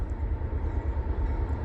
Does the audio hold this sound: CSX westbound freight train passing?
yes